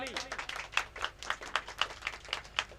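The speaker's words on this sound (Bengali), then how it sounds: "সবাই হাততালি" Audience clapping at the opening ceremony of a Gajan festival event, a few moderately close hands beating a loose, fairly regular rhythm that keeps going throughout, without talk.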